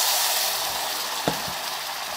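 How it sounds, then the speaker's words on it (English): Boiling chicken stock poured over pearl couscous in a hot pan, giving a broad, steady hiss and sizzle with a couple of faint knocks partway through, close and without talk. "and a cup of boiling liquid goes in."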